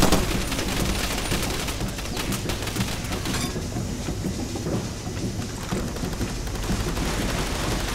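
Gunfire and explosions in the video game Far Cry 2 during a barge defense form a dense, unbroken barrage of loud, crackling noise that runs throughout without talking.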